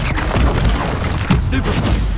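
Bombarda spell explosion in a Harry Potter video game, a loud booming blast with rumbling low crashes filling the short moment, close and dense with a voice in the mix.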